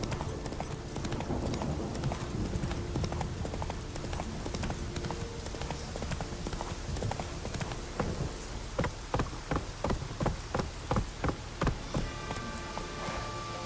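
Horse hooves in The Witcher 3 video game, a steady rapid clip-clop of galloping that turns into sharper, more spaced and distinct hoofbeats toward the end, with an ambient background bed under it.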